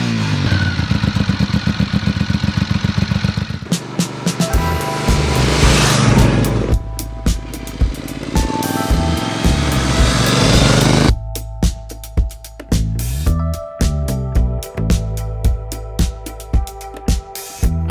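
A Brixton Cromwell 1200 motorcycle with a 1.2-liter engine runs loud and close, with throttle blips and revs rising and falling across the recording, and no voices.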